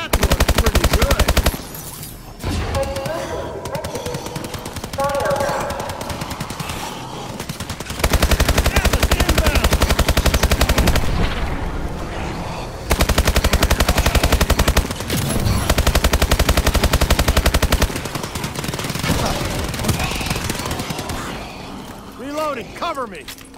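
Sustained automatic gunfire with unlimited ammunition in a video game rattles in long, loud bursts separated by brief pauses, with game voices talking between and over the shooting.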